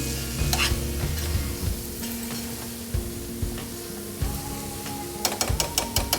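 An onion and egg gravy with garam masala and coriander powder being stirred as it fries in a pan. Steady sizzling runs under repeated spoon scrapes, ending in a quick burst of sharp taps against the pan's edge.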